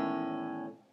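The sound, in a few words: A chord strummed on guitar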